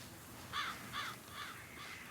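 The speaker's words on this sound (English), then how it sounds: "Crows!" Crows caw in a video game, five evenly spaced calls standing out faintly over a steady ambient background with no talking.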